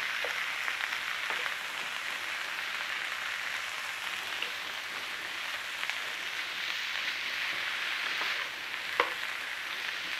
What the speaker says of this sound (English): Start to break your mince down in there with your veg.